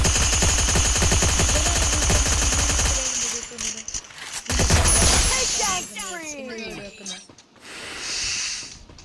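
Rapid automatic gunfire bursts from the Free Fire Max battle royale game fill the first few seconds loudly, then thin into scattered shots and effects while a voice talks over them.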